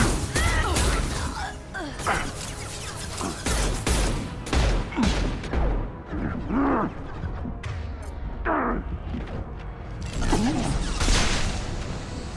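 Pistol and shotgun fire in the video game Mass Effect 2 rattles through a dense, loud combat mix: sharp repeated shots, crashes and whooshing effects stack up with almost no pause across the whole stretch.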